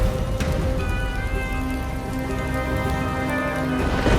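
Heavy rain pours steadily on a hillside trail, a dense, even hiss of drops on surfaces with a faint tonal hum underneath, constant and close, with no voices.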